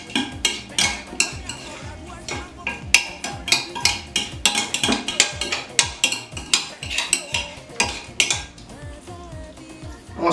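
Garlic and chopped onion being stirred in a pan, with busy metallic scraping and clinking of a utensil against the pan in quick irregular strokes, close and loud, under a faint sizzle and without talk.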